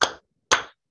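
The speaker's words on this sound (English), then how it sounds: "Two claps." Two sharp hand claps about half a second apart during a sing-along children's song at a library storytime, close and crisp with silence between and after them, no voices.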